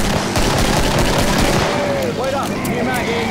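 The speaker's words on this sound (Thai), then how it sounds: "ยิงปืนขึ้นฟ้าหน่อย" Rapid gunfire in the Killing Floor video game, dense continuous shooting with sharp repeated reports and layered combat noise, loud and close throughout, with people talking over it.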